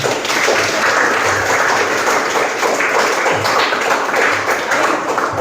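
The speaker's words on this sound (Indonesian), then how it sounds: "Beri aplaus untuk kita semua." A classroom of students at a junior high school claps together in a dense, continuous round of applause that holds steady and loud throughout.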